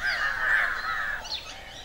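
A crow feeding on flame of the forest nectar gives a drawn-out, hoarse caw, loud and close, followed by a shorter, fainter call.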